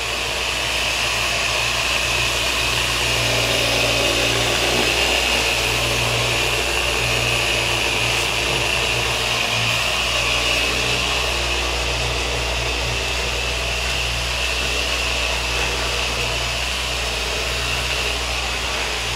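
A random-orbit power sander mats a painted surface where a three-layer paint blend meets, giving a steady, loud, close whirring drone with constant broadband hiss throughout, no voices.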